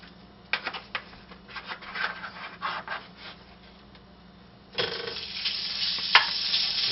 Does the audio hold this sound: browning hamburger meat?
yes